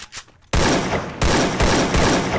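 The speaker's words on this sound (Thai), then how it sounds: "โอเคเรายิงเรียกกันแล้วนะ" Gunfire in the video game Garena Free Fire comes in loud, dense automatic bursts up close, with a short quiet gap between volleys after a brief softer lead-in.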